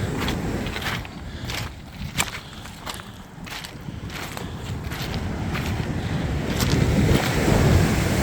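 Sea waves roll in on a beach along a coastal walk from Gilfach to New Quay, a continuous rushing surf mixed with wind buffeting the microphone and swelling louder toward the end.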